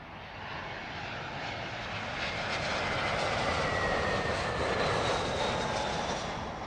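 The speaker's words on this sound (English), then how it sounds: "This is British Airways 573 inbound from Milan." A British Airways airliner arriving at Heathrow Airport roars past, a broad jet engine rush that swells to a loud peak and holds, with no voices.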